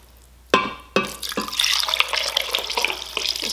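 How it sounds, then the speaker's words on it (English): Water from a jar is poured into a crock pot: two sharp splashes open it, then a steady close pouring and splashing continues to the end, with no talk. "just transfer some water from the jar over to the crock pot"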